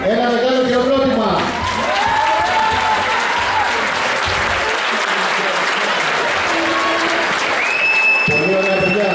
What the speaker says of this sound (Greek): Δεν υπάρχουν λόγια, ένα μεγάλο χειροκρότημα